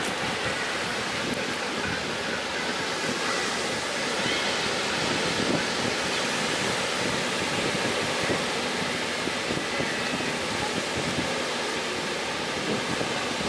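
Ocean surf at Daytona Beach on a sunny day fills the clip as a steady, broad wash of breaking waves and wind noise, constant and fairly loud, with no speech.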